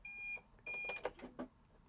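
Quiet electronic alarm beeps from a TESA auto-leveling system on a 5.5-ton camper, sounding while the jacks are down and the engine is started: two steady tones, then softer clicks and knocks.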